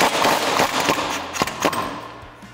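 Impact wrench driving a track bar bolt on a 2021-2023 Ford Bronco with a 7-inch lift, several short sharp rattling bursts in quick succession, close and fairly loud with no talking.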